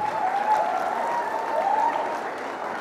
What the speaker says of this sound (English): And singers and musicians were applauded.